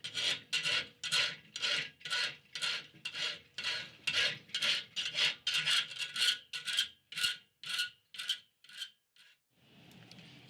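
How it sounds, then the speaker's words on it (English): Steel bar being rasped square by hand before forging an oak leaf hook: about twenty loud, evenly spaced rough scraping strokes, close and alone, slowing and thinning toward the end, then a softer brushing rub. "we've got to file that, or rasp it, whatever, down so it's now back square with the bar"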